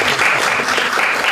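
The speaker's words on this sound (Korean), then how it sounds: "박수 한번 보내주세요." Audience applause at a TESOL certificate seminar, a brief, loud, dense burst of clapping filling the room.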